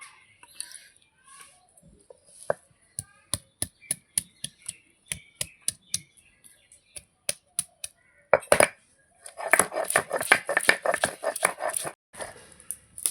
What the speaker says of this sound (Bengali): রসুন বাটা হয়ে গেছে, বেটে নেব আদা।